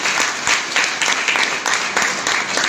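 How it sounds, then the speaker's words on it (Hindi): An audience applauds at a network marketing business gathering, steady clapping from many hands running throughout, with faint voices mixed in. "इनको ताली बजाओ"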